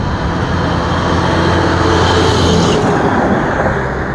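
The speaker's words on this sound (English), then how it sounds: "But the shit trucks are still moving." Trucks loaded with cow manure roll past on a road, a steady, loud rumble of engines and tires filling the air without pause.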